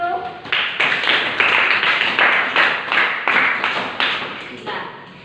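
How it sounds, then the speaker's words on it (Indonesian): A classroom of students claps together for several seconds after a poetry lesson, a dense, steady patter of hands close by that tapers slightly toward the end. "Kasih tepuk tangan dulu."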